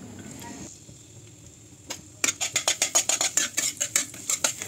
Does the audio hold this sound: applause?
no